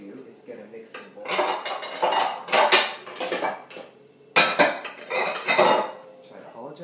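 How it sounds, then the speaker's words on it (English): Dishes and metal utensils clatter and clink in a kitchen as a mixing bowl is pulled out for pastry cream, several bursts of rattling with a short pause midway, fairly loud and close. "So the first thing we will need to do is get a mixing bowl."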